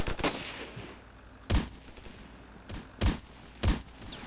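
Gunfire in Ravenfield: about five separate loud shots, irregularly spaced, each a sharp crack with a deep thump, over a low background.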